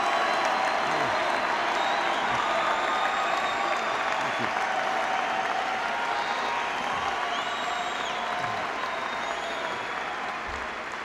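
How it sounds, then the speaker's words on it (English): A large crowd at a campaign rally at Ohio State University gives sustained, dense applause, steady and evenly loud throughout, with scattered cheers and whoops mixed in. "I've enjoyed your applause so very much"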